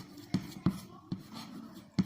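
Chalk or marker strokes tap and scrape on a board during a maths lesson, four distinct sharp hits spaced irregularly over two seconds, fairly close, with faint room tone between them.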